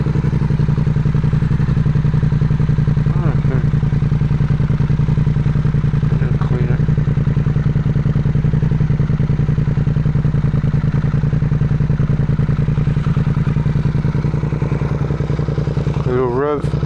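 Engine of a 2024 Suzuki GSX-8R motorcycle idling close by with a steady, loud, throbbing rumble, breaking into a quick rev near the end.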